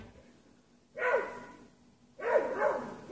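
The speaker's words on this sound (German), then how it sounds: "Die Hunde bedrohen den Berglöwen und geben nicht eine Sekunde nach" Dogs barking at a mountain lion, two separate bursts of barking about a second apart, moderately near but fairly quiet, with a low background hum between them.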